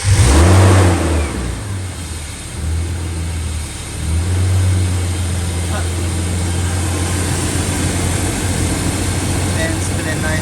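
A 1993 BMW E36 325i engine runs steadily after a water pump pulley replacement, its even, close idle hum joined by the whir of the radiator fan, with a brief rev near the start and voices talking over it.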